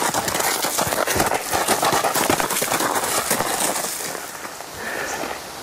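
A led horse walks with continuous hoof clops and scuffs on the ground, fairly close and steady throughout, with some ambient chirps in the background.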